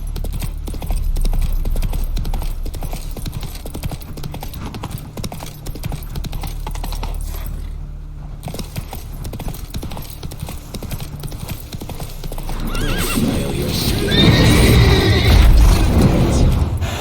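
A horse gallops in The Witcher 3 with a fast, steady clip-clop of hooves under continuous game ambience. The rumble swells louder near the end, and a brief neigh may be heard.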